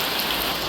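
Rain falls in a steady, close hiss of dense drops pattering on a surface outdoors in Bali, brief and uniform with no voices.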